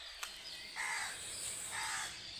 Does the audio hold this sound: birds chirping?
yes